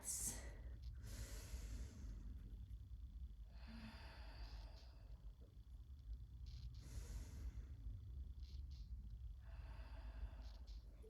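Soft, slow breaths drawn in and released during a yoga flow, faint and close with gentle hissing exhales spaced a few seconds apart against a quiet room.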